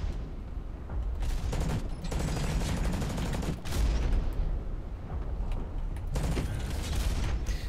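Rapid submachine cannon fire from a mech in the video game Hawken, dense bursts of gunshots and heavy booms rolling almost continuously, loud and close, with short breaks between volleys.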